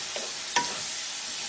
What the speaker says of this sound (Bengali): এখন এই মশলাটাকে ভালো করে কষিয়ে নেব।